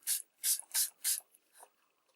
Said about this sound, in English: If we give that a spray